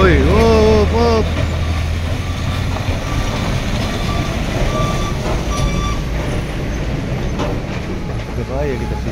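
Truck reversing on a dangerous mountain road, its reversing alarm beeping in a repeated series near the start and again at the end over a loud, steady engine rumble, with voices talking in the background.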